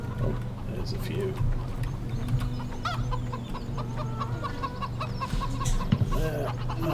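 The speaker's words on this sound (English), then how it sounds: "Chickens." Several chickens keep up steady clucking in Farming Simulator 17 on a winter farm at Lawfolds, Aberdeenshire, with occasional louder squawks and someone talking over them.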